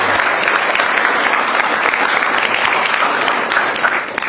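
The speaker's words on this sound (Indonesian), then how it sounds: "Tepuk tangan." Sustained audience applause at a farewell reception for Paskibra flag-raising troop members in Solok, dense clapping filling the room at a steady loudness from start to finish, with a brief dip near the end.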